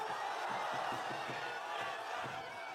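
A large crowd at an outdoor political rally in Daegu applauds, a dense, loud, sustained wash of clapping and cheering that fills the whole moment.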